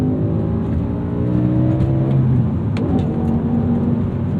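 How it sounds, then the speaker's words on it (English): A 2008 BMW M5 E60 with a manual gearbox revs hard under acceleration, its engine note steady and loud from the cabin, climbing in pitch with a brief shift blip near the end. "Beautiful engine, really happy to rev out."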